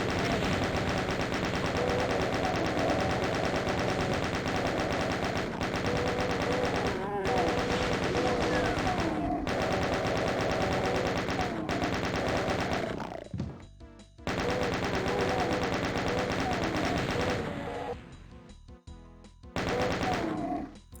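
Rapid chaingun fire from the classic Doom shooter, a continuous loud mechanical burst of shots with brief pauses and stutters near the end, mixed with game action and no talking.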